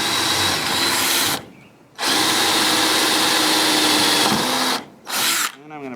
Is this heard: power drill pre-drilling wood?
yes